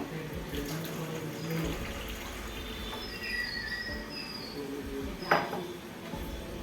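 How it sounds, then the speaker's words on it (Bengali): Water poured into peeled mango for mango sharbat, a steady trickling flow running for several seconds with a brief splash near the end, faint background murmur under it. "এবার জলটা দিয়ে দেবো"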